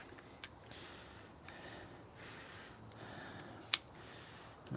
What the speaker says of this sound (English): when the cicadas are out making the noise, that means that it's warm